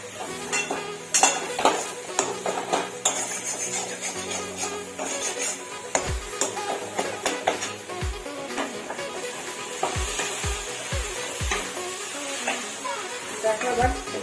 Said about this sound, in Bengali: এক চামচ গোলমরিচ দিয়ে দিচ্ছি, দিয়ে এবার এটাকে আমি ভালো করে ভাজবো।